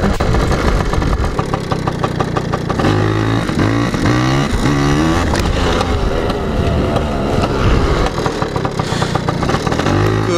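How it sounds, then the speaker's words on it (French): A Piwi 80cc mini motorcycle revs and idles up close during wheelie practice, its small engine droning steadily with rising and falling throttle sweeps throughout, loud and alone without talk. "Première session wheelie training en Piwi 80."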